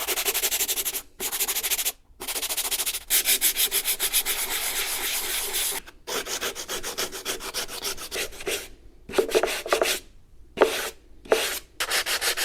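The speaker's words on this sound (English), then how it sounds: "Now all I've got is a piece of 150 grit sandpaper and a little wooden sanding block" Rhythmic hand sanding of filler on skirting boards with 150-grit sandpaper on a small wooden block: rapid back-and-forth rasping strokes in bursts separated by brief pauses, close and fairly loud.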